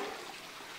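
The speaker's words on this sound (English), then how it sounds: "Okay, so now it's draining the reservoir." Water draining from the reservoir of a bottle washer, a short, faint, steady gushing and trickling rush, continuous and without voices.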